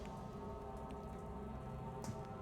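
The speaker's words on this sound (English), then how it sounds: "Big rain." Heavy rain in the video game The Seance of Blake Manor, a steady dense hiss of falling water that continues without a break throughout, with a slightly stronger patter near the end.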